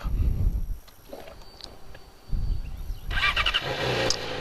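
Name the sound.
motorcycle engine being started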